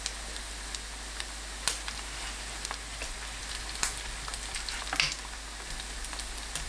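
Yeolmu and tofu pancake batter frying gently in a pan over medium-low heat, a faint low sizzle with scattered soft crackles and occasional sharper pops.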